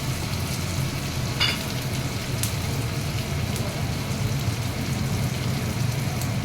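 Capsicum and tomato frying on a high flame for Maharashtrian thecha paneer, giving a loud, steady, unbroken sizzle with a few faint clicks of stirring throughout.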